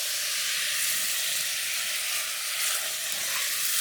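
Food fries in a pan over an outdoor wood fire at a summer campsite, a loud, continuous, close hissing sizzle that holds steady throughout without talk.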